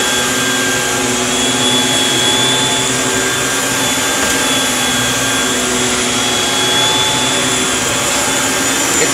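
A brand-new vacuum cleaner with a power head runs on carpet, giving a loud, steady motor whine and roar with a constant hum that holds evenly throughout.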